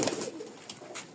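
A female pigeon gives a brief, close, soft coo, a short throaty burble with no talk over it.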